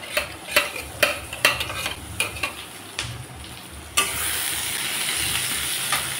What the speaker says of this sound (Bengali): ধনে গুঁড়া আধা চামচের একটু বেশি নিয়ে নিলাম, পরিমাণ লঙ্কার গুঁড়া, সামান্য জল দিয়ে আমি গুলিয়ে নেব।